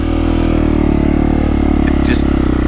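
A 2022 KTM 450 Factory Edition dirt bike engine runs steadily at a low, even putt, loud and close, with a person talking over it briefly.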